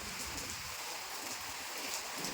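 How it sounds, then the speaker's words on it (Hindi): Heavy rain pours down steadily during an afternoon storm with gusting wind, a continuous close hiss of falling water with no voices. "देखिए यहाँ पे तो हो रही है बहुत ज़ोरदार बारिश।"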